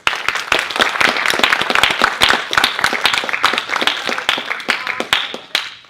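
Applause from an audience after a formal debate: dense, steady clapping close by for about six seconds, fading at the end, with a few voices faintly under it.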